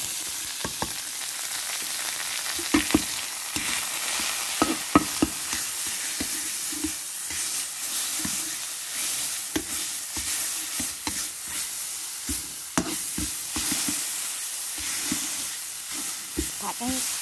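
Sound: stir-frying pounded herb paste in oil

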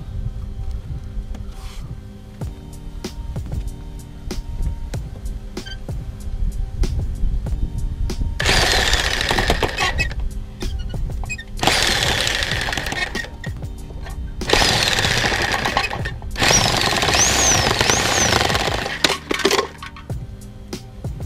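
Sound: cutting a 24 inch PVC pipe

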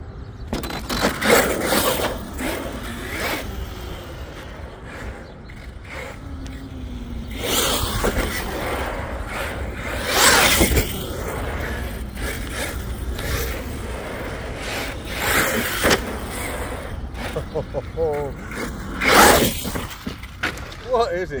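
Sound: Arrma Kraton 6S RC truggy driving on soft asphalt

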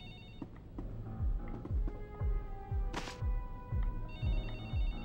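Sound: telephone ringing in The Da Vinci Code video game

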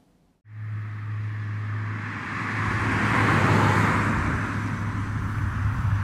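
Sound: Hyundai IONIQ Electric car driving past at 50 mph on wet road

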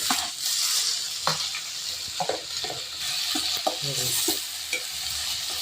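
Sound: tomatoes stirred into frying browned onions

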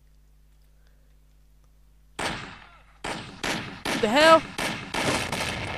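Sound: gunshots in the video game Mafia

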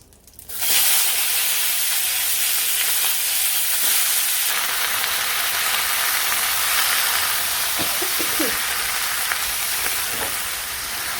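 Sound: vegetables added to hot oil with cumin, sizzling

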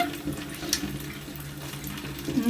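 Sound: rinsing soaped kitchen utensils under water

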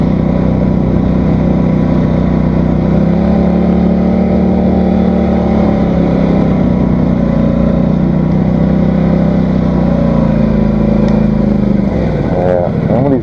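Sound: ATV driving on a snowy trail

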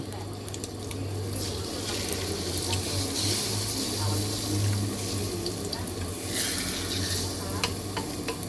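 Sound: frying beaten egg into a thin omelette sheet

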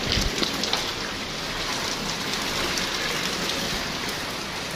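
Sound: heavy rain in Saudi Arabia

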